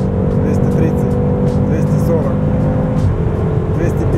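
BMW M6 Competition under hard acceleration at high speed on a German autobahn, a steady loud engine drone with heavy road and wind rumble inside the cabin, while someone talks over it.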